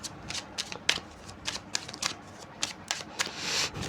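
Tarot cards are shuffled by hand during a reading, making a close series of crisp riffling and slapping bursts in an irregular rhythm, with no talking over them.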